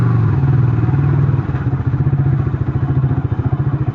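A motorcycle idles and then putters slowly to a stop close by, its engine giving a loud, steady low chugging beat with a few clunks as it is parked.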